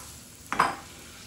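Carrots tipped into melted butter and honey in a skillet give one short burst of sizzle and clatter, close and brief against a quiet background.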